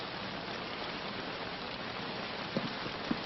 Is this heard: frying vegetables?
no